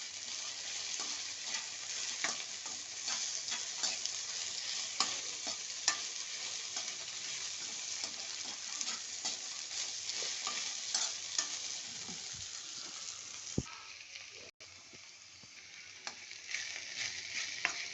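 Okra stir-fries in a pan with milk added, a continuous close sizzle and crackle with frequent spatula scrapes and light taps, steady throughout with no talking.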